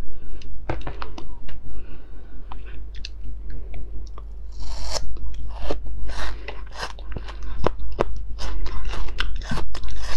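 Close crunching and chewing of enoki mushrooms, a steady run of crisp bites and squelchy mastication repeating throughout, loud and alone with no talking.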